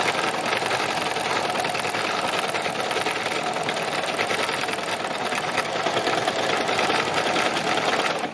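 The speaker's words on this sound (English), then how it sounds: "I just do some sort of wiggly waggly stitching how I feel" A sewing machine runs steadily for free-motion wiggly stitching on a moonlit mountain-range quilt, a loud, continuous, fast whirring hum with no pauses.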